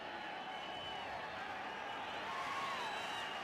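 A stadium crowd in Tegucigalpa at a Honduras versus Grenada football match gives off a steady, distant roar of noise with faint whistles, continuous and even throughout.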